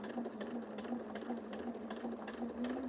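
A sewing machine stitches scrap fabric at a steady, even pace, its low motor hum carrying quick rhythmic needle clicks, close and moderately quiet, with no talking.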